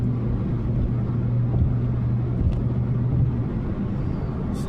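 A car on the way to work, driven hard: a steady low engine and road rumble with wind noise, heard from inside the vehicle for a few seconds without talk.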